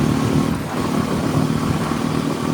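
A motorcycle cruises along the Mumbai-Goa highway toward Kolad. Its engine drones steadily and loudly, mixed with rushing wind and road noise, with no talk.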